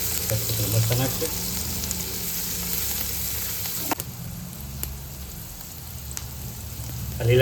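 Capsicum peppers frying in hot oil with onions for Dhaba-style paneer butter masala: a continuous close sizzle broken by a few sharp clicks and stirring scrapes, with no talking.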